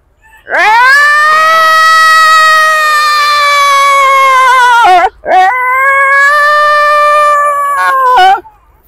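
A human voice imitates a dog at midnight with long, drawn-out howls: one sustained wailing howl, a brief break, then a second rising and falling howl, loud and close with no other sound.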